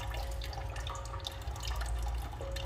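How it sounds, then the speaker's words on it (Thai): Water drips from a newly changed Amway water filter, close and steady over a low background hum, with no voices. "มันจะมีหยดน้ำอย่างนี้นะครับผม"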